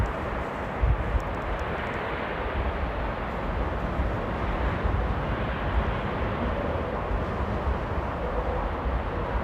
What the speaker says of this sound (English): And we got beautiful Royal Air Maroc coming in there. Ooh, that was a butter landing.